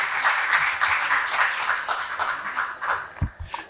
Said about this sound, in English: Perhaps a round of applause for them for looking splendid and the hard work